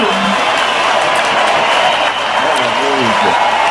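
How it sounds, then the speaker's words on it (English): A crowd claps in a steady, dense wash of applause, loud and continuous, with a faint voice talking underneath. "It's a very polite little round of applause"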